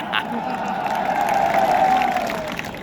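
A crowd at a political campaign rally in India claps and cheers for a few seconds, the applause swelling slightly in the middle before easing off.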